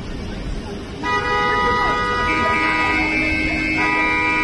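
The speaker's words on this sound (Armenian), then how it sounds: "բարձր ազդանշաններ, այսպես էին արձագանքում երևանցի վարորդները" Drivers in Yerevan lean on their car horns, several long, overlapping tonal blasts rising loud above the street traffic and continuing without a break.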